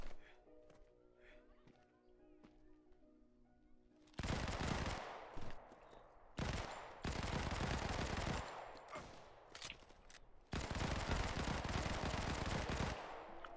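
Gunfire in the shooter game Modern Combat 5 Battle Royale: quiet ambience, then from about four seconds loud sustained bursts of automatic fire in several long strings with short gaps, close and dense.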